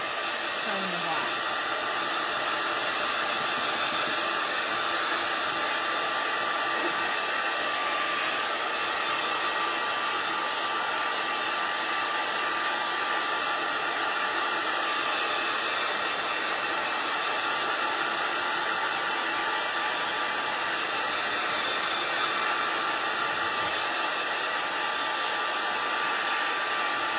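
A hair dryer blows steadily and close up to dry wet paint on a Boo Tree craft, a constant broadband whoosh that runs unbroken throughout at even loudness.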